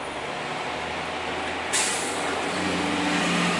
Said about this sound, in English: He came flying around that corner and locked up his brakes